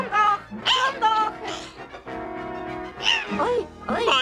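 A cartoon cat yowls and meows in a run of drawn-out, strained cries close up, with other animated sounds around them.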